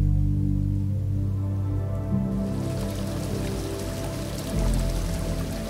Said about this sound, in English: The rain came in waves, and when it rained, it was an unceasing downpour.